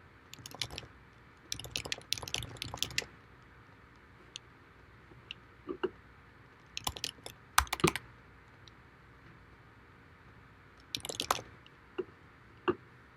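Computer keyboard keys mashed in quick, clattering bursts of typing, with several separate flurries of clicks and pauses of quiet between them, close and fairly soft, no talking.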